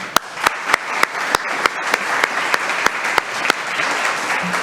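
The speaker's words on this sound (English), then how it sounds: "give them a round of applause as well this evening" An audience at a school board meeting claps steadily while one nearby pair of hands beats out sharp, evenly spaced claps over the general applause.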